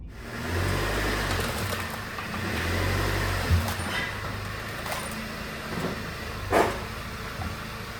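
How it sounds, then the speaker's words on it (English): A 2018 Volkswagen Beetle driving on a short warm-up run, its engine a steady mid-range drone with road rumble that swells gently as it accelerates, plus a couple of faint knocks and bumps from the cabin. "let's go for a quick drive, get the car warmed up a little bit"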